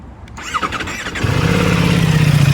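A 2025 Ducati Multistrada V4 Pikes Peak motorcycle engine cranks with a brief squeal, then catches and settles into a steady, loud idle rumble.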